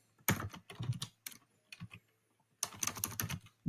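Quick bursts of computer-keyboard typing while working in a Python session: three clusters of crisp, close key clicks separated by short pauses, fairly quiet.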